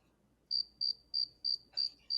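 Crickets chirp in a steady rhythm, six evenly spaced high, bright pulses standing out clearly against an otherwise quiet background, with one pulse briefly blurred by a faint rustle.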